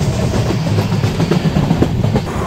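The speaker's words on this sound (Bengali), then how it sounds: "ট্রেন কিন্তু কাশিমবাজার স্টেশন ক্রস করে" The Sealdah–Jalpaiguri Road Humsafar Express rolls through Kasimbazar station with a loud, continuous rumble and rhythmic clickety-clack of wheels over rail joints, close and steady throughout.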